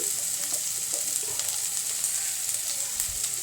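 Fish fries in hot oil for a Kerala fish curry, giving a soft, continuous sizzle with faint crackles, fairly quiet and close, with no talking.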